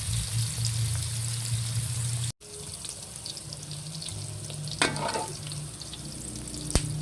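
A hotdog fries in a pan, steady soft sizzling close by with a couple of sharp utensil clinks against the pan and a brief gap in the sound.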